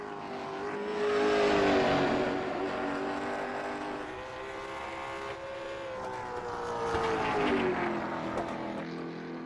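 Sim race car engine circling an oval track at Langley Speedway in a racing video game, a steady droning tone that swells and fades as the car passes, with a commentator talking over it.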